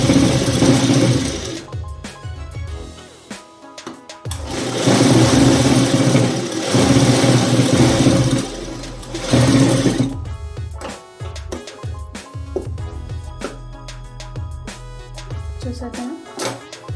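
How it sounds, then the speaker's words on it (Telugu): A sewing machine runs in bursts, stitching a double stitch along a blouse seam. It whirs steadily in long runs, then stops and starts in shorter spurts, close and fairly loud, with no talk over it. "డబల్ స్టిచ్ దీనిపైనే ఎగ్జాక్ట్గా డబల్ స్టిచ్ అనేది వేసుకోవాలి"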